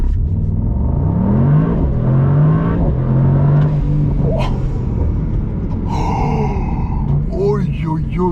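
A Brabus SL GTS with a 4.5 liter engine accelerates with a deep, rising roar up close, while people sigh and gasp over it.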